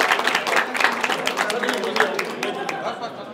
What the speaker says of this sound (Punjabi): ਉਹਨਾਂ ਲਈ ਤਾੜੀ ਮਾਰੀਏ ਕਿ ਜਿਹੜੇ ਟੀਚਰ ਕਰਦੇ।